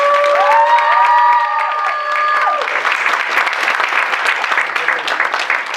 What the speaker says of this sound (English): So I think all of us owe a huge applause for Arya ji.